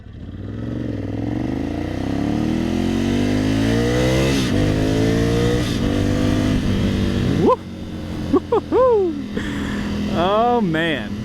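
A 2020 Ducati Scrambler 1100 motorcycle ridden at speed, its engine droning and rising through the gears, then sharp throttle blips and revving near the end over steady wind noise.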